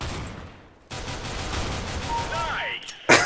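Gunfire in the video game CS:GO: a sustained burst of shots fills most of the moment, broken by a short gap, then a sharp loud shot at the end with game effects layered over it.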